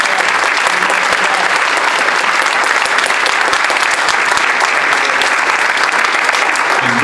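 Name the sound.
audience applause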